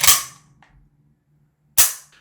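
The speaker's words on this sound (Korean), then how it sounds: "철커덕하는 장전음이 실총 소리 같네요" A Hudson AK 47S ignition-type model gun has its bolt cycled and is dry-fired, making two loud, sharp metallic clacks about two seconds apart, each with a brief rattling tail and quiet in between.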